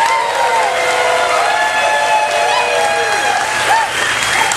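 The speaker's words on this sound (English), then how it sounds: "So give them an introductory round of applause." Cruise concert audience giving performers an introductory round of applause, steady dense clapping with some cheering that holds at full strength throughout.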